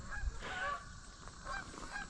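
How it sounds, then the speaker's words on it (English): Several Canada geese honk while flying overhead near a woodyard, with repeated calls at moderate distance over steady outdoor background noise. "watching the Canada geese flying around now"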